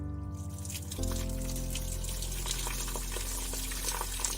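Water rushes from a burst pipe once the supply is turned back on, a sudden loud, steady hiss and splatter nearby that keeps running without a break.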